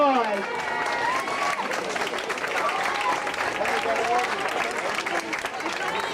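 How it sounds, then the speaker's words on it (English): An audience gives a sustained round of applause at a school's tenth anniversary celebration honouring staff, dense clapping at steady volume from start to finish, with faint crowd murmur and a voice briefly audible early on. "Now let's give them a round of applause."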